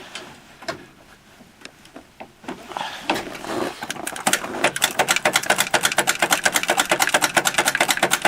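Starter cranking the 16HP Onan twin engine of a Sears Suburban tractor on a cold winter day, a few slow clunks before a rapid, loud rhythmic chugging sets in and keeps turning over, close to the machine.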